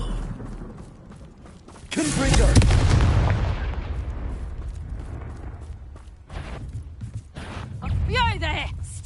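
Confringo fire spell cast in Hogwarts Legacy on PS5: a loud booming blast with a long rumbling, crackling decay, followed by further game noise and a voice speaking over it.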